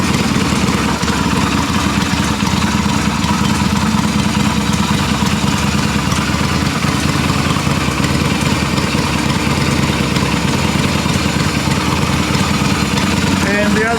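Cold Yamaha XV250 motorcycle engine running in a shed, a loud continuous rough idle with a steady low rumble and no clear pauses throughout.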